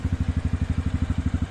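Hummer BTS 300 ATV with a 248 cc variator (CVT) engine and reverse idles steadily, a close, even low-pitched chugging pulse with a slight clattery edge and no voices.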